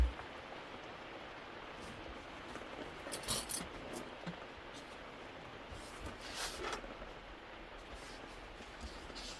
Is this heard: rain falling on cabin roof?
yes